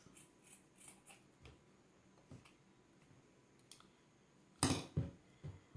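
Scissors snip through cloth being cut for a no-sew face mask, a few faint scattered clicks early on, then a louder close burst of crisp cuts near the end.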